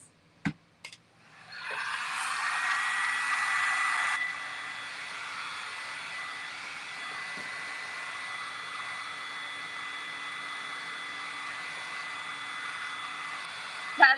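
Hair dryer blowing on painted beaded trim of a thrift store furniture makeover, switched on with a steady whoosh, briefly louder then settling to a constant lower-level hum for about twelve seconds, with a couple of clicks at the start and end.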